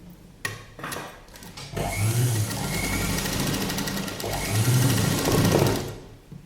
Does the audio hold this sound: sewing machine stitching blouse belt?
yes